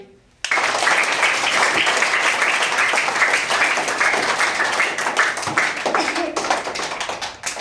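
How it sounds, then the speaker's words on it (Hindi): Rhythmic hand clapping by a group of children during a classroom activity about the months of the year, dense and steady for about seven seconds after a brief quiet start. "बजाओ ताली"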